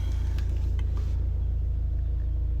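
A 2018 VW Caddy 2.0 TDI diesel engine idles steadily, a close, even low rumble with a faint rhythmic pulse and brief light clicks early on.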